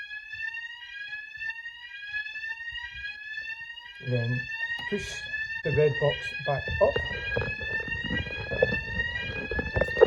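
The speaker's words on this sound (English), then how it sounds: "This should set the alarm off." A C-TEC CFP fire alarm sounds during a test, a loud repeating electronic tone that continues steadily throughout while someone speaks and handles the equipment partway through.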